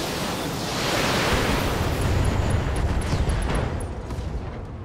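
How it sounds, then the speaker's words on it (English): A mech's ammunition explodes in the Battletech video game, a loud sustained roaring blast that rumbles for several seconds before slowly fading. "the ammo explosion's what did him"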